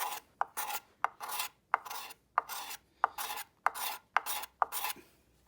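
A steel scraper drawn across the grain of a large carved wooden spoon, eight even rasping strokes in steady rhythm, each starting with a sharp catch, close and quiet with no talk.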